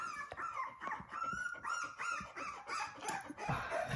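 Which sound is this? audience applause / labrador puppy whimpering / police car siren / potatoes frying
labrador puppy whimpering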